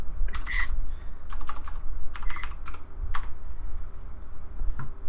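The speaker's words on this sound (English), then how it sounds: "It's a mechanical keyboard with the loudest switch." Rapid bursts of keystrokes from a mechanical keyboard with very loud switches, clicking in irregular clusters close up, with no talk.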